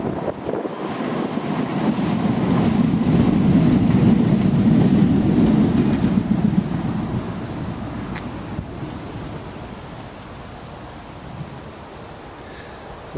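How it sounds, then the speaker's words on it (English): A Newcastle metro train passes near Newcastle International Airport with a loud, broad rumble that builds over the first few seconds, peaks, then eases into a steady lower roar with wind buffeting the microphone outdoors. "There's another metro train just about to pass, as you'll hear."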